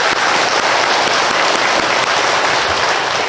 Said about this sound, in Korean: 우리 감사하는 마음을 담아서 우리 찬양대에게 박수 한번 보내드리겠습니다